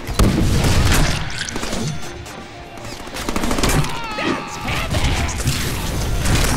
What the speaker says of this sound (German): Oh Gott, Granaten.